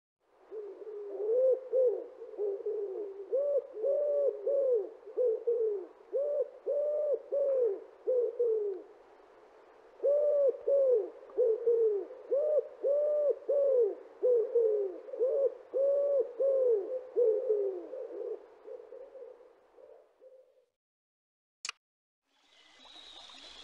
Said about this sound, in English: Wood pigeon.